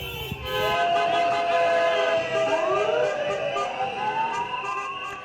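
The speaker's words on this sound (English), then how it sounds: "around 40 members of staff were greeted by sirens of solidarity" Several fire service sirens wail together, their rising and falling tones overlapping loudly and continuously at a firefighters' pay demonstration outside a government building.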